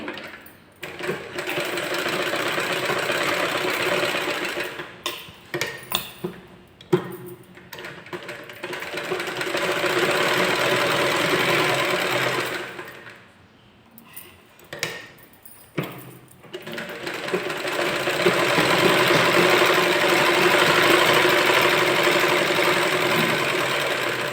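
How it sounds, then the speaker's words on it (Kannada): A sewing machine stitches lining cloth for a simple back-opening blouse, running in steady loud bursts with two brief pauses and a quieter lull midway, no talking. "ಲೈನಿಂಗ್ ಬಟ್ಟೆ ಮೇಲೆ ಒಂದು ದೊಡ್ಡ ಹೊಲಿಗೆ ಎತ್ಬಿಟ್ಟು ಸ್ಟಿಚ್ ಕೊಡ್ತೇನೆ"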